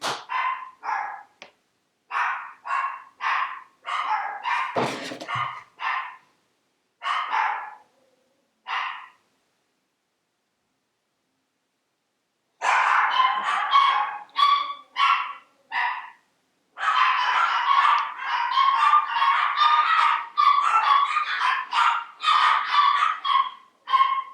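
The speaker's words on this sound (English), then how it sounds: "My dogs are losing their minds." Several dogs bark excitedly in rapid volleys of sharp, loud, close barks and yips, fall silent for a few seconds, then resume in dense, overlapping bursts, with no talking.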